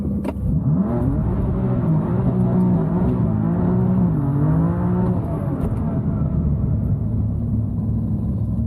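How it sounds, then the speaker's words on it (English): A 700 hp BMW M3 doing a burnout at a quarter-mile drag session, its engine holding a loud, steady, strained roar with wavering pitch that fades into a lower rumble near the end. "crazy burnout."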